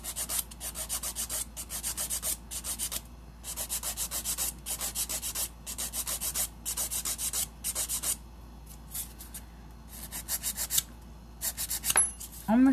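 A nail file rasping along the sides of a short almond-shaped acrylic nail, close and crisp in quick rhythmic bursts of strokes separated by brief pauses, with no voices.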